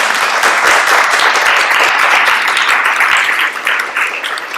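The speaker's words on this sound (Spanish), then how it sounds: "Un aplauso, ¿no?" An audience at a book presentation in a hall breaks into loud, sustained applause, dense clapping from many hands that continues steadily throughout and eases slightly near the end.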